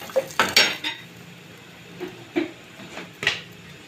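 Dal being added to a cooking pot and stirred, with metal utensils clanking and scraping against the pot in several sharp bursts and softer stirring sounds between them.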